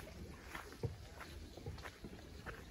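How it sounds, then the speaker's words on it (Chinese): Oars dip and pull through lake water near the shore after rain, soft intermittent splashes and strokes spaced irregularly, faint and close-ish over a quiet outdoor background. "可以听到那划桨的声音，"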